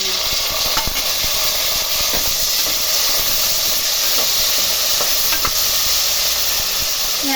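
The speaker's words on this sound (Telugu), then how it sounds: "ఇందులో పచ్చిమిరపకాయలు వేసుకుందామండి. కొంచెం వేగనిద్దాం." Green chillies fry in a pan for bagara rice, a steady loud sizzle and hiss running the whole time with occasional stirring clicks, no one talking.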